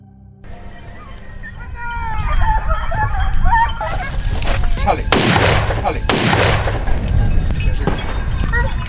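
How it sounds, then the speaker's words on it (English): Gunshots ring out in a forest during a wild boar hunt, with two loud, booming reports mid-clip over a busy background of bird-like cries, rustling and distant voices. "The first shot rang out, the hunt officially began."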